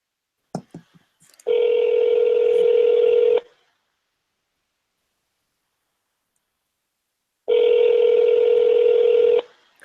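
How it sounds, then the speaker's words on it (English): Two long steady telephone dialing tones on a call line, each about two seconds, separated by several seconds of silence, with a brief rustle at the start; no talking. "Do you hear dialing?"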